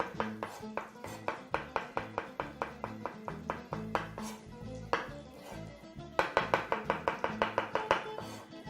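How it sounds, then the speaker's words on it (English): Mushrooms being chopped with a knife on a board: a brisk, steady run of crisp close taps, pausing briefly midway before picking up again, with no talking. "I'm just going to chop a few more mushrooms"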